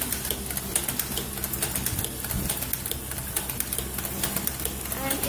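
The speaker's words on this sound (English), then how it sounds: "Okay, now the machine is working." A nylon zipper reverse slider mounting machine, model QLQ-SMM, runs in a factory with a dense, steady rapid clatter of repeated mechanical ticks and clicks that continues without a break.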